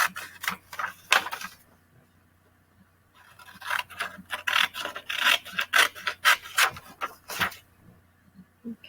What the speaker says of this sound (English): Cut around the outside here.